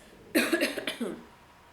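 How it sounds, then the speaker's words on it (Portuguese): A single burst of several quick, rough coughs, close and fairly loud, trailing off into quiet. "Desculpa a tosse."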